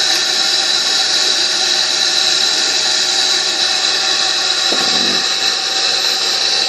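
Bissell Pet Premiere upholstery cleaner running steadily at close range, a loud continuous motor whine with broadband suction hiss as it pulls water out of car seat upholstery, with a brief gurgling dip near the end.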